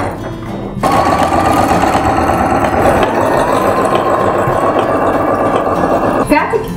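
A Bernina B350 sewing machine stitches jersey fabric with a walking foot, running as a steady, loud, fast mechanical hum and rattle that starts abruptly and stops briefly near the end.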